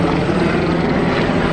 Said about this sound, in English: That chopper just flew right over the trees